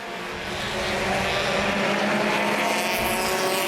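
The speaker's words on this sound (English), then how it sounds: "Top two cars working past the solar vehicle of Stephen Cox." Mini stock and front-wheel-drive compact race cars at Plymouth Speedway, heard as a loud, continuous engine roar with a steady drone that holds throughout, sustained as the pack passes close by.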